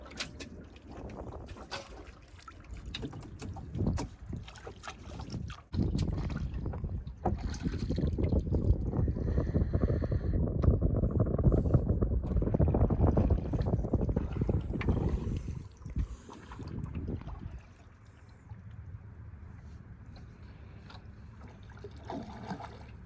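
Water swishes and trickles around a small rowed wooden boat, with intermittent splashy strokes and gusts of wind buffeting the microphone; no one speaks.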